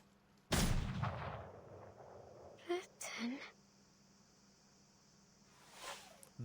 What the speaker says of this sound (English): The bullet flies from the barrel, trailing a long white streak through the air.